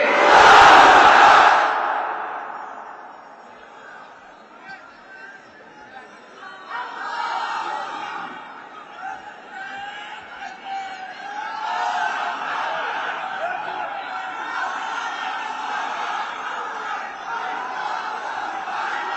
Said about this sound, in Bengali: সবাই মিলে তিনটা তাকবীর পড়েন, লিল্লাহে তাকবীর, লিল্লাহে তাকবীর, লিল্লাহে তাকবীর